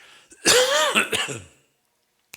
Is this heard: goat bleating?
no